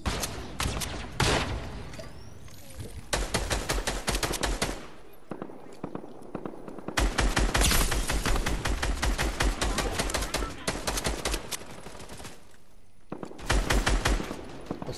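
Rapid automatic gunfire in a Fortnite match, loud bursts of machine-gun fire in several long volleys separated by short gaps, with a voice talking briefly over the shooting.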